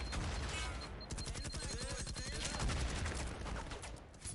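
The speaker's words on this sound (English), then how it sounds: "A lot of gunfire exchange." Rapid gunfire crackles in a video game match, dense bursts of shots from several weapons overlapping throughout at moderate, steady loudness.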